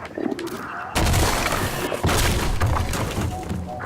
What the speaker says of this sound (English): we've been taught at this point by hitting blue bugs explode